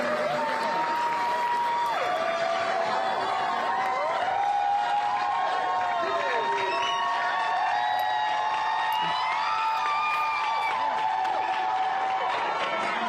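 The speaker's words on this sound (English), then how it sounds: "to tremendous applause." A crowd in the Tennessee State Legislature chamber cheers and applauds, with shouts and whoops rising over continuous clapping and voices throughout.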